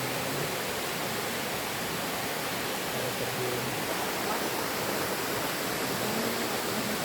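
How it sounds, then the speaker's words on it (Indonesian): Taeno waterfall in Ambon, Maluku, Indonesia, pouring into a blue-green pool below, heard as an unbroken, even roar of falling water that fills the whole scene. "Dengan hati-hati saya masuk ke telaga dan duduk santai melihat pemandangan air terjun di atas sana"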